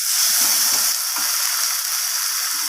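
Tomato, onion, chili and turmeric frying in hot oil, a steady close sizzle with a few soft stirring scrapes, no voices.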